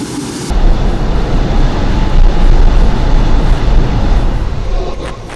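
A full-size overland vehicle's engine labours on a steep, washed-out hill of loose rock and shale, a loud continuous rumbling drone with heavy low-end noise that stays steady throughout, with no talking.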